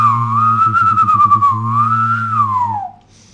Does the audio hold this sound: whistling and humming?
yes